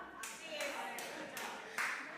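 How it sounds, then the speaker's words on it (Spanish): A single churchgoer claps during a sermon in a church, a run of sharp claps standing out over the room's murmur and speech. "Gracias a la que aplaudió."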